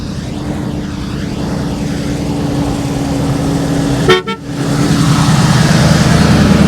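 Big block V8 of a 1967 Ford Mustang Cobra Jet fastback rumbling loud and close while driving, with a brief sharp burst and dip midway before the steady engine drone resumes.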